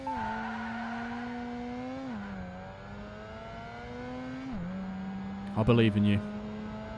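A Mazda RX-7 races in Project Gotham Racing 2, its engine droning steadily with pitch dips at two gear shifts and a brief skidding burst near the end, while a voice talks over it.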